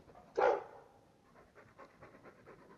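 A guard dog in the Dragon Age 2 video game gives one loud, close huff near the start, followed by a run of softer rhythmic panting breaths.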